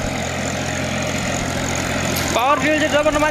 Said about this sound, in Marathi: आज आपण बघणार आहोत मेसी फर्ग्युसन 728 या ट्रॅक्टरने अद्रकीला कशा पद्धतीने भर लावली जाते